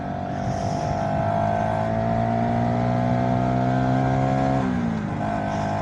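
Riding a VOGE 125R motorcycle, the small engine holds a steady, rising tone under wind noise, then drops sharply near the end as a gear change lands before climbing again.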